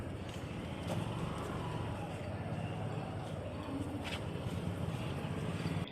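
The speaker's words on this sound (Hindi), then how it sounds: "तो हम अंदर आ चुके हैं और अब गाड़ी खड़ी करने जा रहे हैं।" Car driven into the grounds of Rani Laxmibai government hospital and pulled into a parking spot, a steady engine and road rumble with wind buffeting throughout, no pauses.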